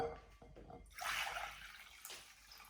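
Water is poured into a bowl during a kitchen experiment with 30 °C water, a short splashing rush of liquid that swells near and then trails off into a faint trickle, with no talk.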